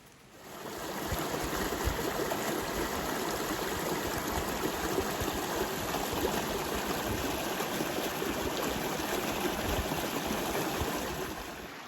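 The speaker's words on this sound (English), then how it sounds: "Always nice to listen to the sound of water." Water from a stream flows and rushes about twenty feet below a hiking trail on the Appalachian Trail, a steady, even wash of sound that goes on without a break and carries no voices.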